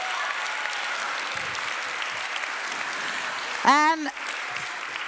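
Audience applause at a confirmation-class church service, a steady wash of clapping filling the clip at moderate level, with a brief voice cutting in near the end.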